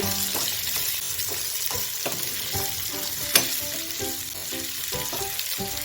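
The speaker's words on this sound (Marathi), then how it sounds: "करतुले छान तेलामध्ये मिक्स करून घ्यायचे आहे पूर्ण" Spiny gourd (kartule) frying in oil while being stirred: a constant close sizzle broken by repeated scraping and clinking strokes of a spoon against the pan.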